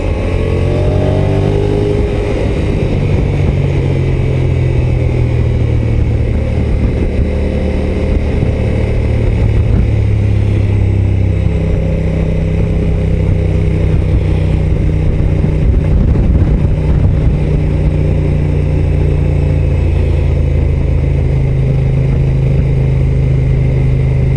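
A Honda NT 1100 DCT motorcycle in sport mode runs loud and close, its engine climbing high through the revs and holding a steady, droning roar for a long stretch.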